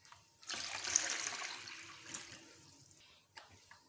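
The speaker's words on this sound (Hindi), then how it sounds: "एक बाउल लेते हैं, उसमें पानी ऐड करते हैं।" Water pours into a bowl in a kitchen, a bright splashing stream that starts abruptly, runs for a couple of seconds, tapers off, then gives a brief final splash.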